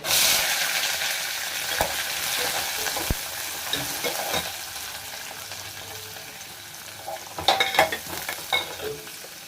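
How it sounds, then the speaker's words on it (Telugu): Onion, green chilli, garlic and curry leaves fry in a mustard-seed and cumin tempering, giving a loud, continuous sizzle with occasional stirring clinks and a sharper spattering burst toward the end. "అది కొంచెం ఫ్రై అయ్యాక అందులో ఉల్లిపాయ పచ్చిమిరపకాయ వెల్లుల్లిపాయ కరివేపాకు వేసుకుంటున్నాను"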